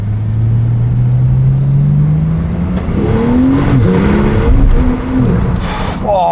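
A Porsche 991.2 Turbo S in Sport Plus mode accelerates hard around town, its engine note climbing steadily and loudly from inside the cabin, then a gear change and a renewed rise.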